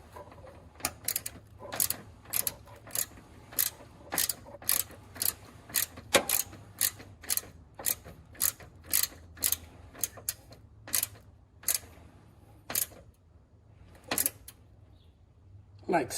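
A ratchet tightens a ground wire during a Tesla Model Y frunk installation, heard as a rapid, regular series of sharp clicking strokes close by, slowing toward the end, with talk in the background.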